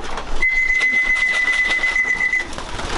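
A steady, piercing whistle blast sounds for about two seconds as a feeding-time signal for trained birds, over faint background noise.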